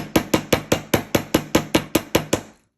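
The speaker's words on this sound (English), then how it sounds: "we're going to hammer this side down" Chasing hammer strikes wire on a hard surface to flatten and harden it for a wire-wrapped ring, a close, even series of about thirteen sharp metallic taps in quick regular rhythm, then stopping.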